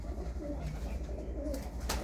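Low, soft cooing from a desi breeder pigeon hen with white eyes, a few muffled calls over a constant low rumble, fairly close and unaccompanied by talk.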